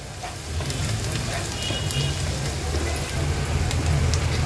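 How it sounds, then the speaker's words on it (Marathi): Turmeric, garam masala, coriander-cumin powder and red chili powder fry in hot oil for a Maharashtrian eggplant bharta, giving a steady crackling sizzle that grows a little louder, with light clinks. "हे सर्व मसाले तेलावर छान परतून घ्यायचे आहेत"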